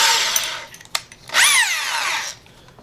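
A battery-powered drill driving a spade bit through wood whines loudly up close, with a short burst followed by a longer, rising-then-falling run as the bit bites in.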